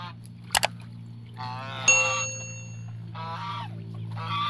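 A white goose honks in its pen in several harsh, nasal bursts, near and fairly loud over a steady low hum, with a brief metallic clink early on.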